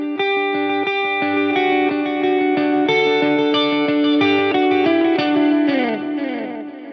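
Electric guitar chords played through a Line 6 Helix with two reverbs on together ring out with a wide, washy wash of reverb and modulation, notes smearing and blending into a shimmering sustained tail.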